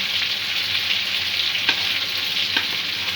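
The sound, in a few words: chana dal being stirred and fried in ghee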